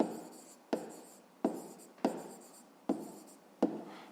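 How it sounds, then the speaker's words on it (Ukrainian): Pen strokes writing down the answer to a 5th-grade maths exercise on paper, a handful of short scratchy strokes spaced about a second apart, close and clear with no talk. "Так, ну і записуємо це."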